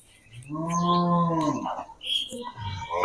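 A Sahiwal bull calf lets out one close, drawn-out moo lasting over a second, followed by faint rustling and handling noises.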